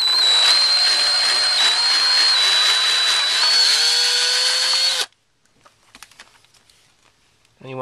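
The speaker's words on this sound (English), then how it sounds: "You gotta make sure you drill this straight." Loud power drill running steadily for about five seconds while boring a homemade Boeing 737 landing gear lever part, its pitch shifting slightly partway through, then stopping abruptly and leaving faint handling clicks and rustles.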